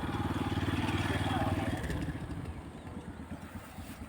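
Motorcycles and cars pass along a street outside Evercare Hospital in Chittagong at sunset, a steady loud engine drone with a motorcycle's rumbling idle and revving that eases off as the traffic moves away.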